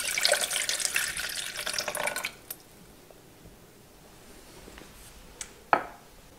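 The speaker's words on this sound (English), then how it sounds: "I'm gonna put the water to the pot." Tap water running into a pot for boiling, a loud splashing stream for about two seconds, then the tap shuts off, leaving quiet with a couple of faint knocks and a sharp clunk near the end.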